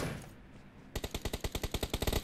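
Rapid automatic gunfire in PUBG Mobile, a steady burst of about a dozen sharp shots beginning after a second of quieter game ambience and running evenly to the end.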